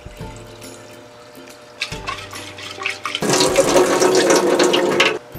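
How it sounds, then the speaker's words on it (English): Sprouts are rinsed under a tap in an RV sink, with short trickles and splashes first and then a loud, steady gush of running water that stops abruptly. "So I'm going to rinse them out"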